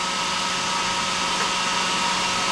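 A birdseed cleaning machine blows air out in a loud, steady, broadband rushing roar, constant and close, with no break or change in level.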